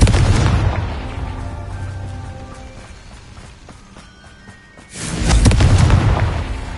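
A Confringo blasting spell explodes in a Harry Potter video game, with a loud booming burst and a long rumbling decay, then a second heavy blast erupts near the end.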